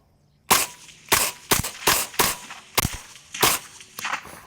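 Seven sharp rifle shots crack out in an irregular rhythm over about four seconds, each loud and close with a brief ringing tail, heard alone without talk.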